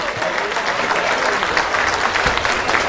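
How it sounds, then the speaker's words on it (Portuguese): An audience applauds as a jury member is introduced at the opening of a singing competition, with steady, dense clapping at a loud level and no speech over it. "para o aplauso de todos"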